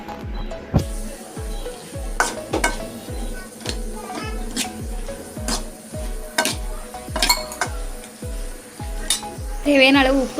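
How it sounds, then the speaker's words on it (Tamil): An onion and spice mix with asafoetida sizzles in a pan for sambar while a spoon stirs and scrapes against the metal in a steady repeating rhythm, close and fairly loud. "பெருங்காயத்தூள் சேர்த்து எல்லாமே சேர்த்து நல்லா வதக்கி விட்டுருங்க."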